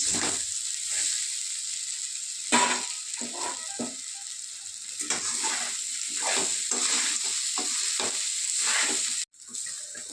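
Poha with onion and peanuts stirred in a pan over steady sizzling, a spatula scraping and knocking against the pan in irregular strokes, close up, with a constant hiss underneath.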